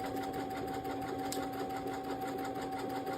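A Brother Innovis Quattro 3 embroidery machine with a metal magnetic hoop stitching, giving a steady, fast mechanical whir and rattle that runs on continuously and close by.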